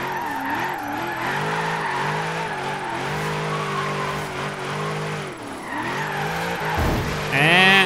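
A supercharged 2012 Cadillac Escalade ESV drifts in Forza Horizon 3, its engine droning loud and steady with wavering pitch as it revs, ending in a rising whine and squeal.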